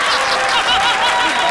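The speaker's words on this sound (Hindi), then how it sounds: "ताली।" A studio audience at a Comedy Circus comedy show breaks into brief, fairly loud applause mixed with scattered chuckles.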